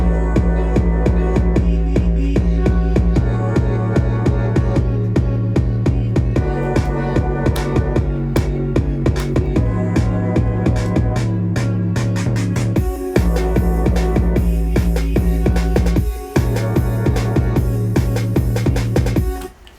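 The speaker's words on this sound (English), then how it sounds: "I made some vocal chops with the chant of the intro, and they sound so amazing." Electronic track with chopped vocal snippets repeating over a heavy bass and steady beat, loud and continuous, a brief drop near the end.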